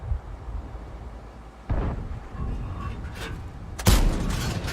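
Tank cannon shots in a World of Tanks-style game featuring a Strv S1, heard as two sharp booming blasts, the second louder and closer, over a steady low battle rumble.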